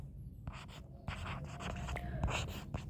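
A teacher writing on a board in a science class, with quick scratchy marker or chalk strokes in short bursts against a low background hum. The writing sounds close and fairly clear.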